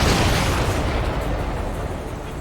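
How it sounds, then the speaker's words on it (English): A supply ship explodes during an Ace Combat 7 air combat mission, giving a loud, continuous rumbling blast that holds steady through the whole stretch with no speech over it. "Did you see that explosion? Looks like that's one of them down."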